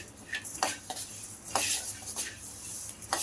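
Coriander seeds dry-roasting in a pan on low-medium heat for sambar powder, with sharp metallic scrapes and clinks from stirring scattered over a faint background, no one talking.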